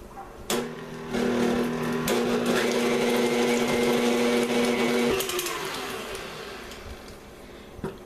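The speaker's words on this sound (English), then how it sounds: "I'm going to blend these up until they're smooth and creamy" An electric blender or mixer whirs steadily as it creams butter and cream cheese, starting with a thump, holding a constant motor hum with a clear pitched whine, then winding down and stopping, with a few clunks.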